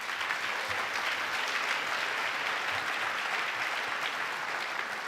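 Sustained audience applause fills a white coat ceremony for a medical school class, steady dense clapping throughout with no voices over it.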